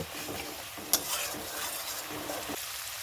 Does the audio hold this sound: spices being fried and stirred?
yes